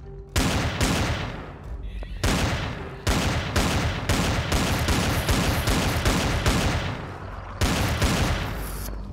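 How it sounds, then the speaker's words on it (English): Loud, close bursts of automatic gunfire in Empyrion Galactic Survival as spiders are shot, rapid shots in long strings broken by short gaps, with no talking. "Let's see if we can shoot them through here."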